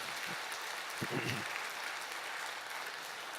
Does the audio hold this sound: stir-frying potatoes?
no